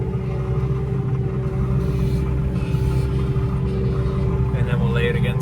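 A vehicle drives over a manure hose on a farm, heard as a steady, low engine rumble with constant droning hum, close and unbroken, while a voice talks over it.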